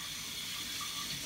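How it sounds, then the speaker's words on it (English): Tap water runs steadily into cups being rinsed in a sink, a brief continuous splashing gush with no voices. "We're just gonna rinse each cup so it, like, you don't have that aftertaste of every other one"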